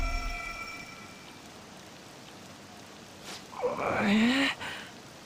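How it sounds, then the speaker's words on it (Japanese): Rain falls in the Japanese-language Persona 5 Royal video game as a soft, steady hiss in the background, and near the end a character's voice speaks briefly over it. "大した雨じゃねえだろ"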